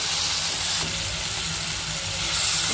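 Spice paste for a paneer curry sautés in oil with a little water added, giving a loud, dense, steady hiss and sizzle up close, with no talking.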